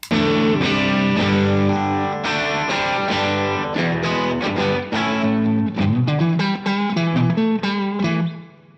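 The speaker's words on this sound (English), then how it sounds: "And it sounds like this. So first we have hard clipping." An electric guitar through a CKaudio Court Jester overdrive pedal in hard-clipping mode plays a gritty overdriven riff, with sustained distorted chords and quick picked notes, loud and continuous.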